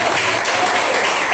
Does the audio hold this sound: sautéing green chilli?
no